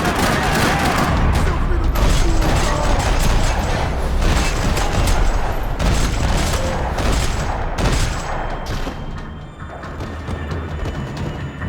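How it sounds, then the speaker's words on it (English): Dense, rapid gunfire in the video game Max Payne 3 rattles continuously with booms and mechanical clatter, loud and chaotic, easing slightly toward the end. "Another parking lot rattling with gunfire."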